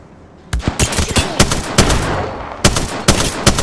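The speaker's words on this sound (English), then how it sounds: "I'm spotted. Taking fire. Getting shot at." Gunfire aimed at the player in an Apex Legends match, with loud, close bursts of rapid shots in uneven clusters spread across the moment and no speech over them.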